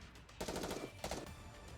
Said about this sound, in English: She proceeds to unleash a barrage of gunfire forward.